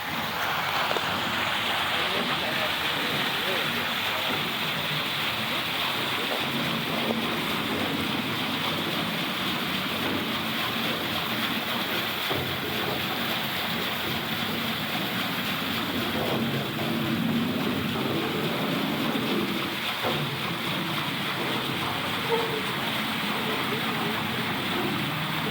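Water rushes steadily and loudly at the big water-powered mill of Falls Mill, a continuous broadband roar of falling and churning water with no break, close by and alone throughout.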